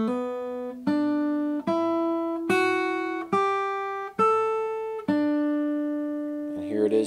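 A guitar plays a riff, seven clear plucked notes at a slow, deliberate pace, each ringing and decaying before the next, close and clean, with a brief scrape of handling at the end.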